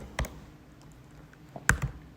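A few sparse keystrokes on a computer keyboard: a couple of sharp, close clicks with a short pause between, otherwise quiet room tone and no voices.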